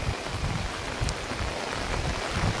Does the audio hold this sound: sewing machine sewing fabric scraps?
no